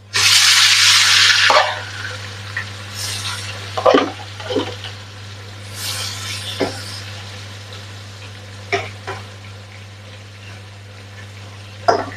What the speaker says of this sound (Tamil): இறால் பொரியட்டும்